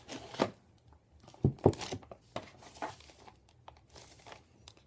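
Cardboard crinkles and tears in a few sharp bursts, with quieter rustling and handling noises between them, close by and with no voices.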